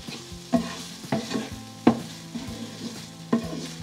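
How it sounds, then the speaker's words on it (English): Onions and a Goan balchao spice mix sautéing in a pan for prawn pickle: a spatula scrapes and stirs in about six distinct strokes over a soft, continuous sizzle, close up, with no voices. "we're just going to saute the spice mix for about 2 minutes before we add in the shrimp"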